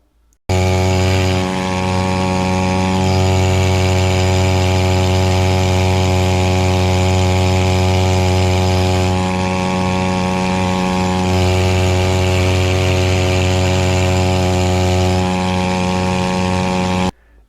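A new Yamaha 2.5 HP outboard motor runs steadily at about half throttle during break-in, a loud close continuous engine drone with a strong even pitch that starts abruptly and continues without a break.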